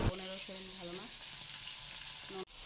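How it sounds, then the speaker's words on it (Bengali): Fish fries in a pan with a steady, close sizzle running throughout, while a voice rises and falls over it at the start and briefly near the end. "এখন মাছ ভাজা বসিয়ে দিয়েছি"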